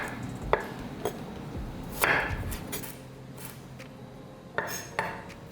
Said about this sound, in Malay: Korang potong bawang Holland. Bawang Holland ni korang cincang halus.